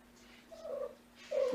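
A young kitten at bedtime purrs softly up close, with two brief tonal mews rising over the low rumble.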